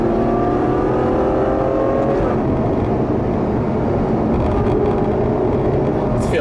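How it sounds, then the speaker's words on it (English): Ferrari GTC4Lusso V12 engine pulling and revving from inside the car, a loud steady roar with rising tones over heavy road and wind rumble, swelling slightly toward the end. "Sounds great when you rev it up"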